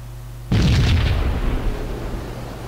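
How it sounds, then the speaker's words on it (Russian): Gunfire in the video game Max Payne during a rooftop shootout: a sudden loud blast bursts in after a quiet moment, then rumbles and echoes away over the following two seconds with no speech. "Перестрелка на крыше."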